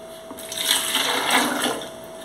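A blender whirs briefly, blending pomegranate seeds with ice-cold water sloshing inside, a steady buzzy churn that swells and fades over a couple of seconds, fairly close.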